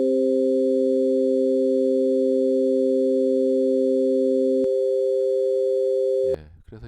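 Three pure sine tones sound together as a C-E-G chord, holding steady and loud. The lowest tone drops out partway through, the other two continue a little longer, and then a voice begins speaking.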